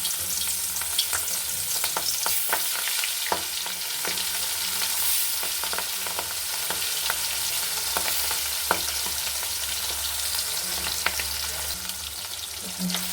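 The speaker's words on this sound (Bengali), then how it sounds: "দেখুন আমি কড়াইয়ে তেল দিয়ে দিচ্ছি দেখুন মাছগুলো এক এক করে" Pieces of boal fish fry in hot oil in a kadai, giving a steady, crackling sizzle with frequent small pops and spatters throughout, close and clear with no talking.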